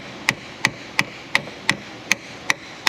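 Metal punch tapped against an engine cover on an Infiniti FX35 3.5 with a VVT fault, struck in eight light, evenly spaced sharp taps close to the microphone.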